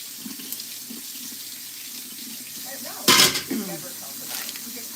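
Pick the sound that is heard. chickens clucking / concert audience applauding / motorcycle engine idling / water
water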